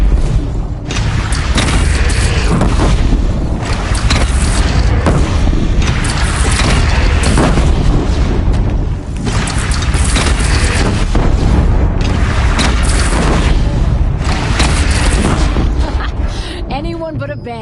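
Cannon fire and heavy booms in the Horizon Zero Dawn game, loud repeated blasts in a dense battle din, with voices shouting over the continuous combat noise.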